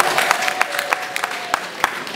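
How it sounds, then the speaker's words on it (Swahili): A small crowd at a district party election results count gives a short round of applause, sparse and uneven claps close by over a faint hum. "Makofi kwake"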